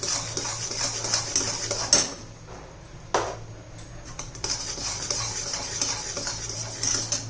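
A spoon stirs cardamom powder into a sesame and jaggery mixture in a pan, producing soft scraping with a few sharper metallic knocks against the vessel and no speech.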